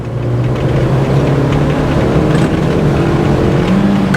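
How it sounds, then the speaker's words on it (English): A cheap, worn Mini Cooper accelerating hard in second gear from 30 to 60: a loud, steady engine drone rising slowly in pitch, heard from inside the car with no talk. "let's give her a good 30 to 60 run here. In second gear, 30."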